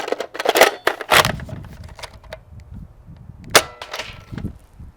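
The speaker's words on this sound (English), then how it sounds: "I shot 8 of those long distance darts" An Air Warriors The Walking Dead Andrea's Rifle toy blaster fires long-distance foam darts: three sharp, clacking shots spaced over a few seconds, each followed by fainter mechanical rattles, with no talk.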